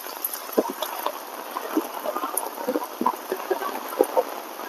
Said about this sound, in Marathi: कारण पाऊस काय थांबायचं नाव घेणार नाही.